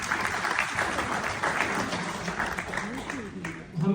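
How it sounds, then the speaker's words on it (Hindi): A crowd at an event in Frankfurt, Germany, with a poet on stage, breaks into sustained applause, steady clapping from many hands with a voice speaking over it near the end. "मेरा दिल चाह रहा है कि मैं आपके लिए तालियां बजाऊं"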